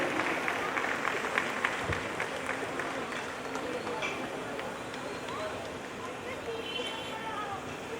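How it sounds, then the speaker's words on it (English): An audience applauds at the WATAL fashion show, with a continuous wash of clapping and crowd murmur that holds at a fairly even level throughout, and voices talk over it. "तालियां बजती रहें, बंद क्यों हो गई?"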